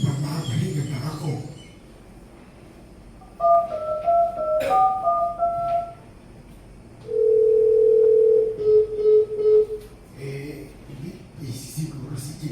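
A telephone tone sounds in a Filipino radio drama: a short sequence of pitched beeps, then a steady held tone breaking into quick repeated pulses, with voices speaking before and after.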